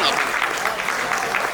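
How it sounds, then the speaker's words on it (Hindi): An audience claps steadily at a Hindi comic poetry recital, a dense, even patter of applause that fills the whole short moment. "यदि आप लोग तालियां बजा करके आदेशित करें"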